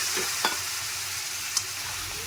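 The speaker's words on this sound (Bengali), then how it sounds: "এখন এটাকে আমি ভালো করে কষিয়ে নিব, হালকা আঁচ করে আস্তে আস্তে করে কষিয়ে নিই এটাকে আমি" A spice paste of Kashmiri red chilli thinned with water sautés on low heat in a pan for a fish curry, a soft continuous sizzle with a couple of light utensil taps, close and moderately quiet.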